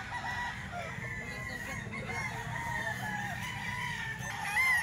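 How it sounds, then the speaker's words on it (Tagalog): Roosters crowing amid a continuous background of poultry clucking, fairly close and moderately loud, with no talking. "Puro mga quality yung manok ngayon ah."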